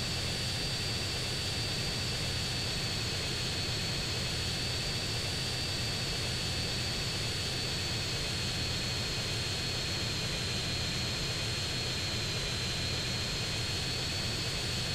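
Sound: airplane engine in the video game GTA San Andreas

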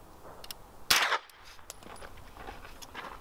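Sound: suppressed rifle shot with supersonic ammo, mic at ear

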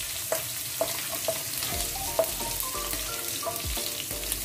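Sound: frying cinnamon, fennel and cloves, stirred in a pan

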